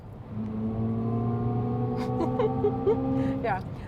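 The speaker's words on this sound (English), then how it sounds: "You can immediately hear the difference in the sound. It's a little fuller, a little deeper" A synthetic engine sound from an electric car in sport mode, such as the Alpine A290 or Volkswagen ID.4 GTX, hums in steady tonal layers and rises in pitch toward the end.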